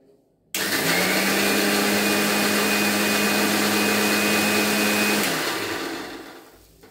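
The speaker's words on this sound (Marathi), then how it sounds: "आता मी हे मिक्सर मधनं काढते" A kitchen mixer grinder blends sugarcane pieces with ginger, black salt and a little water for juice, a steady loud motor whine with a high tone that runs for about five seconds and then winds down.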